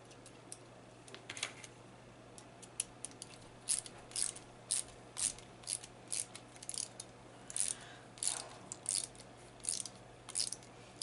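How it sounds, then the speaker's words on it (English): Ratchet screwdriver clicking in short repeated bursts while assembling links on a Vaterra Ascender RC 4x4 crawler, crisp and close with steady pauses between turns. "It is always nice to have a screwdriver that has the ratchet."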